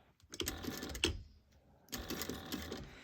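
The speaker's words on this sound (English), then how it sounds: "Make sure to backstitch." A sewing machine backstitching fabric for a bag runs in two short close bursts of rapid mechanical stitching, separated by a brief pause, with no talking.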